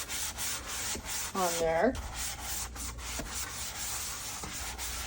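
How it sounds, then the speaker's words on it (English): Sideways scrubbing of a quartz composite sink coated in pink cleaner, a steady close rubbing swish that runs the whole time, with a brief spoken phrase partway through. "I'm just going to scrub this sideways"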